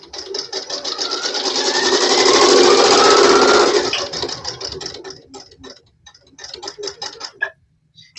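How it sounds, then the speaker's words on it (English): A sewing machine runs in a sustained burst as it stitches around quilting fabric, then slows into short stop-start runs of rapid, close, loud mechanical ticking. "I'm just stitching all the way around it, making certain that I catch all my fabric."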